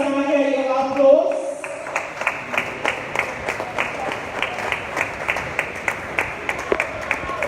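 A voice speaks briefly and then an audience breaks into applause at the closing ceremony of the Lagos International Trade Fair. The clapping is fairly sparse, with distinct individual claps repeating steadily for several seconds.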